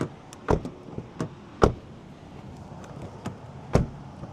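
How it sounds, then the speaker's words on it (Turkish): Doors of a 2025 Honda Civic 1.5 Turbo being shut, a series of sharp, solid thuds and clicks at uneven intervals, fairly close and clear. "Bir kapı sesine de bakalım."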